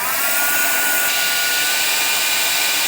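A heat embossing tool blowing hot air to melt embossing powder on a sentiment die cut makes a loud, steady, even whoosh that holds without pause.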